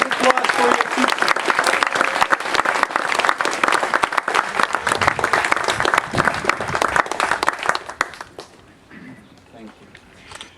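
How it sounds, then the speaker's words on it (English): An audience at an 8th grade gateway ceremony applauds the teachers, a loud dense wash of clapping for about eight seconds that then tapers off to a quiet room. "So a round of applause for your teachers"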